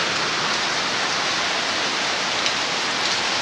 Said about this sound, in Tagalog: marami lakas ang ulan